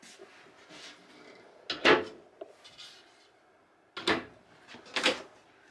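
Drawers in an RV bedroom at the 2021 Florida RV Supershow slide open and shut in three close, moderately loud wooden bumps and scrapes, separated by quiet room tone with no talking.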